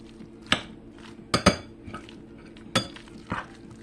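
Salmon croquette mixture with onion, red pepper and celery being mixed in a bowl, giving a few sharp utensil clinks and scrapes against the dish amid a quiet kitchen.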